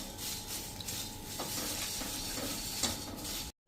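Puffed rice stirred and dry-roasted in a pan for sweet pendas, a steady close hiss of the grains with soft scraping from the spoon, continuous for several seconds before cutting out.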